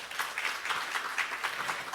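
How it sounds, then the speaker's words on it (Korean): Steady applause from a symposium audience, a dense patter of many hands clapping together, fairly soft and distant throughout. "수고해주신 모든 분들께 다시 한번 큰 박수 부탁드립니다"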